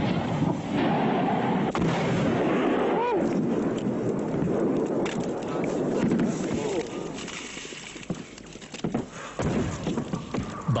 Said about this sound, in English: the enemy's artillery fire was sustained and occasionally uncomfortably accurate